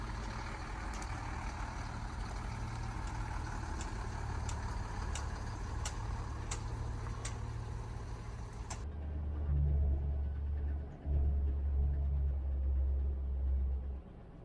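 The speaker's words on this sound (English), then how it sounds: "some other vehicles have been driving along there, so we can just see how they are doing here this quite hard angle around the corner" Off-road trucks grind through mud around a sharp corner: a steady, loud low engine rumble with a faint hiss runs throughout, swelling heavier and deeper in the last few seconds.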